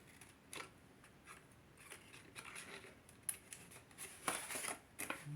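Scissors snip through paper at an angle while a small paper tea cup is cut out, giving faint, close, irregular crisp snips and rustles in a quiet room.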